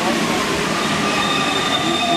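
An older Paris metro train of the type once used on line 4 rolls in, with loud continuous rumble and high, drawn-out wheel squeal, close by, and a faint voice underneath.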